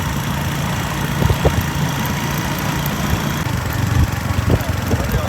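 Motorcycle engine runs steadily at close range, a continuous low rumble with mechanical vibration and occasional small bumps, heard alone while riding toward a small town.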